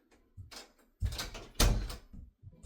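A door in a home is pushed shut, giving a few close knocks and a firm thunk as it closes, with brief handling noise around it.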